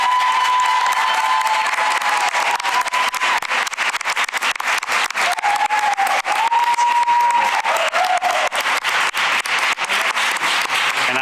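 Sustained applause from a school board meeting audience honoring staff candidates, dense and steady throughout, with a faint tone sliding in the background.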